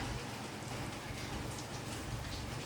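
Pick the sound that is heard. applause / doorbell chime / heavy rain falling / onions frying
heavy rain falling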